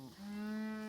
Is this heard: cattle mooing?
yes